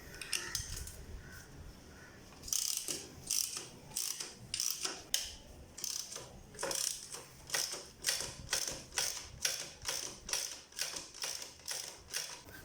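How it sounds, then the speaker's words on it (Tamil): A ratchet loosens nuts on a Yamaha FZ motorcycle engine during teardown, in steady repeated back-and-forth strokes of sharp, close clicking that turn into an even rhythm, with no one talking. "ஸோ இப்போ இங்கே கொடுத்துருக்க நெட்டெல்லாம் கழட்டிடலாம்."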